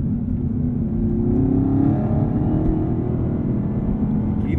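Engine sound from a Chevrolet Camaro ZL1 1LE with a supercharger, heard from inside while driving on a twisty road: a loud, steady low drone with a rising whine on top, without talk.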